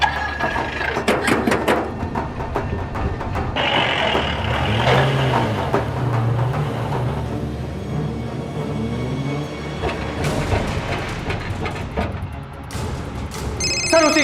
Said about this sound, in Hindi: सर उसी का फोन है, उठाओ उठाओ।